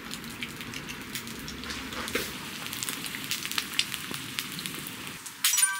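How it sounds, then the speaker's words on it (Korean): Egg frying in oil pooled on a pan at a cold-weather campsite, a steady close crackling sizzle with scattered pops and spits throughout, a louder burst of sizzling near the end, no talking. "아, 계란 후라이."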